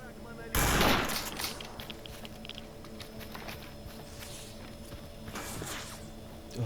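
Gunfire in the shooter game S.T.A.L.K.E.R., one loud burst of shots followed by scattered distant pops and footsteps, with a voice talking faintly underneath.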